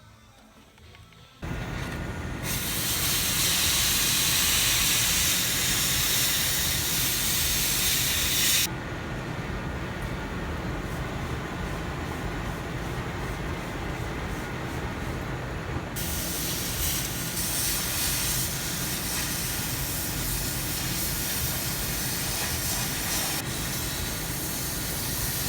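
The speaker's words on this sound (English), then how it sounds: "I think I'm just gonna torch it out." Cutting torch slicing through metal on a C10 truck during a 4x4 conversion, a long loud roaring hiss that shifts in tone as the flame works, sustained with no speech.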